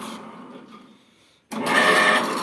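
2M112 drilling machine's electric motor, converted to run on 220 volts with capacitors, hums quietly, cuts out briefly, then starts and runs with a steady, loud whine.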